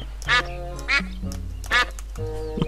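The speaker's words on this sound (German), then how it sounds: "Okay, man kann nur schnattern mit der Ente." Loud, close duck quacks from the Monkey Island 4 video game, four drawn-out calls with gaps between them, heard alone with no talk.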